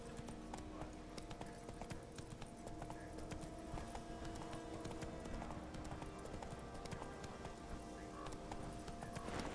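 Hoofbeats of a horse galloping in The Witcher 3: The Wild Hunt, a steady, loud clip-clop rhythm running throughout under dense game sound and music.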